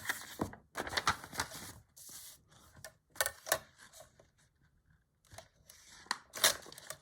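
Paper torn against a tear ruler at a junk journal crafting desk, making a series of short crisp ripping bursts with brief pauses between them, close and moderately loud.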